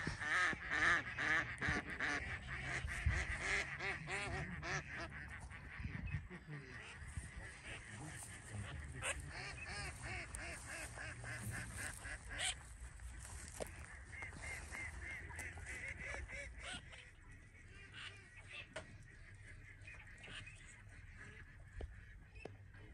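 Ducks quack repeatedly from a hunting hide on the Etang de Berre in the Camargue at night, a steady, busy chorus of honking calls in the middle distance that thins out toward the end.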